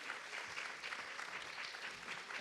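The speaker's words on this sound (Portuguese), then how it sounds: "uma salva de palmas para ela, Mariem." An audience at a talk on women in science breaks into applause, a continuous crowd clapping at a steady moderate level with no speech over it.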